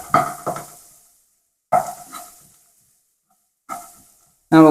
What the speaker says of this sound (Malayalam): നന്നായിട്ട് മിക്സ് ആകുന്നതിലിങ്ങനെ ഇളക്കി വേവിച്ചെടുക്കണം ചെറുതായിട്ട്